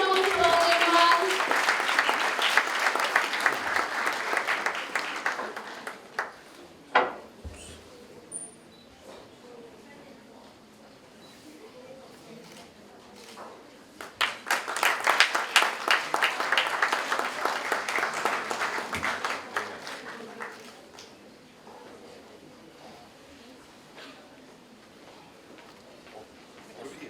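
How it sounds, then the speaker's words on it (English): An audience at a national moot court competition's valedictory ceremony applauds with sustained clapping, swelling in two broad waves with a brief lull between them, heard at moderate distance in a hall. "Please give a huge round of applause"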